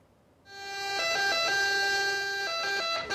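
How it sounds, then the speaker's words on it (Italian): An ambulance siren wails steadily in a repeating two-tone pattern, starting after a brief quiet moment and holding loud and clear to the end, with no voices over it. "Le sirene dell'ambulanza suonano per un malato che preoccupa l'intera collettività, la sanità pubblica"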